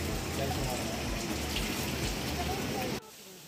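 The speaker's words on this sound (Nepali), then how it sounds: "यहाँनिर एउटा तातो पानी आउने ठाउँ रहेछ। त्यहाँबाट एकदम नेचुरल, त्यहाँबाट तातो पानी बग्ने।" Natural hot spring water flowing on a Himalayan trekking route in Gorkha, Nepal, a steady close rush and splash that cuts off abruptly near the end.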